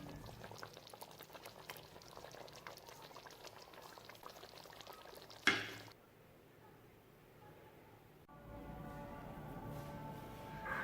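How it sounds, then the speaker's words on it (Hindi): Cooked beef paye, Lahori-style trotters, ladled out of a pot: liquid sloshing and pouring with a simmering bubble, a sharp clank of the ladle midway, then quieter gurgling pours near and alone. "अब हम इसे डिश आउट करेंगे।"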